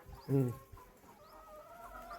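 A single short cluck from a laying hen rings out near the start, then only faint low background noise remains.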